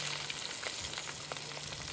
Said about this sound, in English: we're gonna put the fish on skin side down. Just hold it down for a second because the impact of the heat just pushes it up.